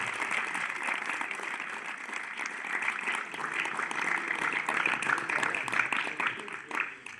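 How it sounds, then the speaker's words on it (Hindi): Crowd applause at a Republic Day celebration at a Vedic gurukul in India, a steady dense clapping that rolls on for several seconds and fades near the end, with faint voices mixed underneath. "एक बार जोरदार तालियों से स्वागत कर दीजिए।"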